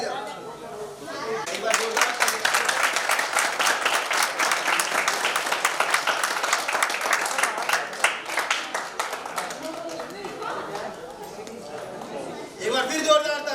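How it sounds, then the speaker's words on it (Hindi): Loud, sustained applause from a crowd at a Louis Braille birth anniversary ceremony, dense clapping running for about ten seconds with a brief lull, then picking up again near the end, with some chatter underneath. "एक बार फिर जोरदार तालियां, जोरदार तालियों के साथ"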